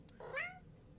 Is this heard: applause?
no